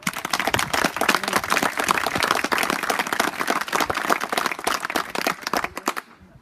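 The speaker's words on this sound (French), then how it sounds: "Et pour ça, on peut déjà vous applaudir." Audience applause at a public speech by a mayor during a Flanders cycling event in Ploegsteert: dense, continuous clapping from a crowd for several seconds, then cutting off abruptly.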